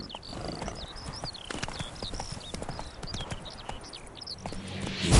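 Roach the horse galloping in the video game The Witcher 3: brisk, even clip-clop hoofbeats close up, with birdsong chirping over them and a louder thump at the very end.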